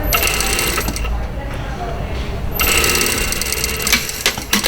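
A sewing machine whirs loudly and close while back tacking the collar of a blouse, its rapid stitching pausing briefly before resuming.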